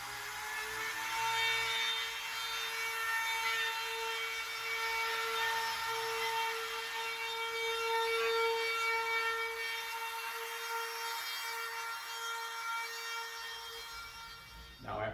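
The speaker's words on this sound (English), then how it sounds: "And the bevel is done with a router." A router bevels the edge of an end-grain walnut cutting board, a steady high-pitched whine held for the whole stretch, faint and somewhat distant, tapering off at the end.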